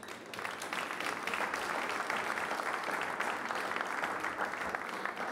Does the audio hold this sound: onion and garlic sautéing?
no